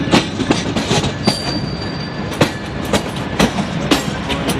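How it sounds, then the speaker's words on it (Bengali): The Jahanabad Express passenger train running on rails, heard from inside with a steady loud rumble and repeated clickety-clack wheel beats over the track, with no voices. "এখন আমাদের ট্রেনটা কাজের দিকে সরে যাচ্ছে, এখন হয়তো সেটা লাইনে চলে যাবে।"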